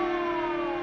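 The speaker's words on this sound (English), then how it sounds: "It's a siren. Probably an ambulance or a police car." A siren, likely from an ambulance or police car, in a 1940 film: one steady, loud wailing tone held alone for under a second.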